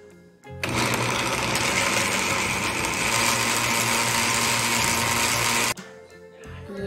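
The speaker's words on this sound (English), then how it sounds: "Let's start the blend." A blender purees butternut squash soup after a short click and start-up. A loud, steady high-pitched whir runs for about five seconds, then cuts off and leaves quiet handling noises.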